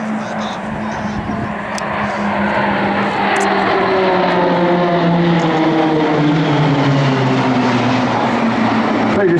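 RAAF Roulettes aerobatic propeller aircraft run in together in wedge formation for a barrel roll at Point Cook, a loud droning engine roar with rising and falling pitch that stays steady and close.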